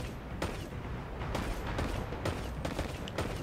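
Sharp gunshots crack in quick succession during a Destiny 2 firefight, several loud bursts spaced irregularly over a busy mechanical background, with no talking.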